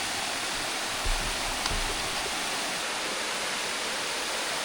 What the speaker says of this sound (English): I can get the whole falls now.